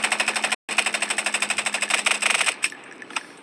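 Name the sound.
gunfire in Roblox shooting video game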